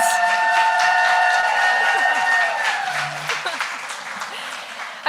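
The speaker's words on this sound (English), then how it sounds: "let's get a round of applause for the questions" A live audience at a women's dinner event in Harlem applauds after a question segment, loud dense clapping with a few whoops, gradually thinning toward the end as voices emerge.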